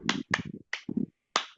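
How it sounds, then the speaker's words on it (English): A handful of sharp hand claps from listeners in a French language lecture, four quick irregular bursts with short gaps between them, close and fairly loud. "Clap for them too."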